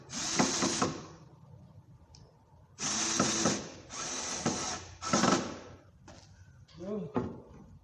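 A power drill drives screws into raised-bed boards made of 2x4s outdoors, in several short whirring bursts with pauses between them.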